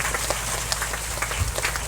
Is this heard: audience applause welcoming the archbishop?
yes